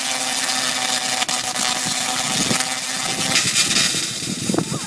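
A Tesla coil arcing down its column at an outdoor demonstration by Lake Michigan: a harsh, continuous electrical buzz and crackle with sharp snaps scattered throughout, steady and fairly loud.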